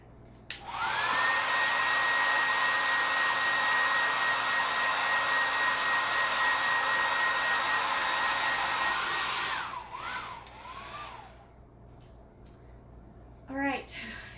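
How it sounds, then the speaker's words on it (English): A hair dryer blows loudly and steadily for several seconds, then switches off, leaving a quiet room with a few faint sounds. "That hairdryer isn't helping."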